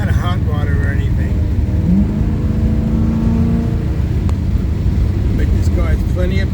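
Car engine droning and pulling steadily while driving along a country road, a constant low rumble with a brief rising tone, heard under someone talking throughout.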